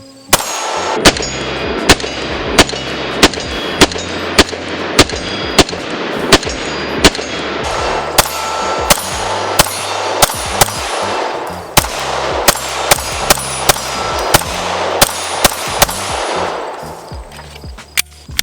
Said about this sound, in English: Now this thing is already shooting pretty flat, so I should be able to keep accuracy somewhat decent with a mag dump.